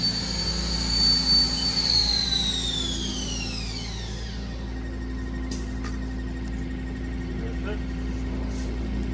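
A 2022 HAAS ST-30 CNC lathe spindle gives a high, whining tone at max RPM that sweeps downward over about four seconds as it winds down, leaving a low machine hum and a few sharp clicks.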